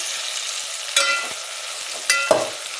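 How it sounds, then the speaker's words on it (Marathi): Fried paneer and cashew pieces are stirred in a pan for a matar paneer pulao, giving a soft continuous sizzle broken by two sharp spatula scrapes and clatters, near and clear with no talking. "काजूचे काप टाकूया तळलेल्या आणि हे सर्व जिन्नस हलवून घेऊयात"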